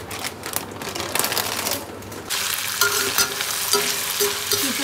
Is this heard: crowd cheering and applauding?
no